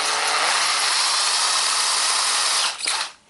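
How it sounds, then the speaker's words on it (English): A case trimmer whirs steadily while cutting a 30-06 Springfield rifle cartridge case, a loud, close, continuous buzz for under three seconds before it winds down. "I'm going to go ahead and trim it anyway."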